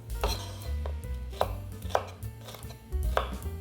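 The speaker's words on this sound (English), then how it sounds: "Next, we can cut up the green peppers" A knife chops green peppers on a cutting board in a kitchen, several distinct sharp cuts landing at an uneven pace, close and clear, with no talking.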